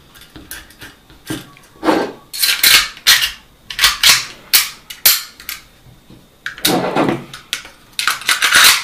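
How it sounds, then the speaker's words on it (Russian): Sharp metallic clicks and clacks come in irregular bursts as parts of a Baikal MP-654K Makarov air pistol are handled and snapped together close by. "Соберем пистолет."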